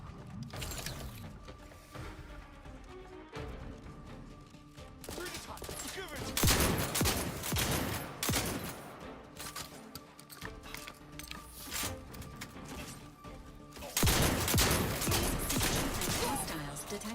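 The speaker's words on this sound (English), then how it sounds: "Shotgun time." Shotgun blasts and clattering combat mechanics in the video game Outer Worlds 2 on very hard mode, repeated loud bursts amid a busy mix of game effects and music, with bouts of louder firing.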